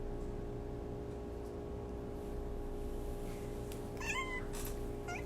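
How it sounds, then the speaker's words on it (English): A pet cat gives a brief meow in a quiet indoor room, heard once near the end over a steady hum. "She just said meow."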